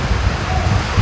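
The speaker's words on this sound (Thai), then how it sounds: "ตัวฝนกระหน่ำมาละบาดนี่" Heavy rain pours down outdoors in a steady, dense hiss of drops drumming on surfaces, loud and close with no voices over it.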